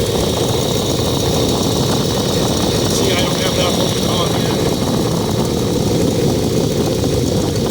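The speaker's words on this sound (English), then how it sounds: "That's why you'll hear a little exhaust leak." A loud 305 V8 engine in an El Camino idles steadily with a rough, puffing exhaust-leak edge, while someone talks over it close by.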